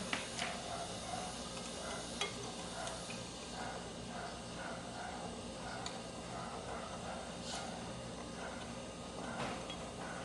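Bagel dough being mixed in a bowl, a quiet, steady stirring and scraping with soft irregular ticks throughout, faint and close with no talk.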